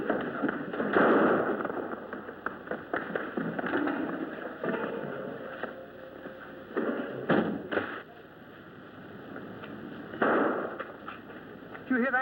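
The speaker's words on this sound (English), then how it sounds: "That was the sound of shots." Gunshot sound effects in a Dick Tracy radio drama, several sharp bursts and pops scattered through the stretch at moderate distance, with a busy, noisy background and a few voices.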